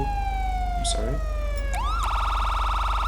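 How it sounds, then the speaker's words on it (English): A first-stage police siren in a police role-play video game: a falling tone, a brief rising whoop, then a rapid warbling yelp, loud and steady with no voices. "For the sirens, we have different stages, and we also have wailers."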